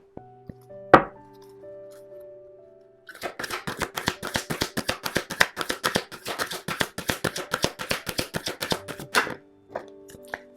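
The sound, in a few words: shuffling tarot cards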